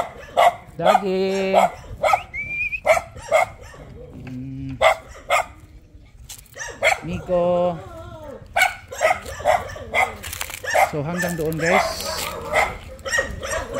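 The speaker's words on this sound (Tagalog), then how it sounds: "Maraming aso." Several dogs bark repeatedly and loudly close by at a hillside lot beside a highway overlooking the sea toward Panglao Island near Tagbilaran City, while someone talks over and between the barks.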